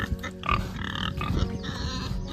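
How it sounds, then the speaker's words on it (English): Pigs in a muddy pen on a small farm after days of rain, giving a busy mix of grunts and snuffling squeals close by, steady throughout with no talking. "There's the piggies."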